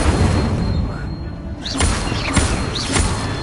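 Incendio fire spell blasts in the Hogwarts Legacy video game: a steady roaring whoosh followed by a few soft bursts with faint whistling tones, all fairly loud and close.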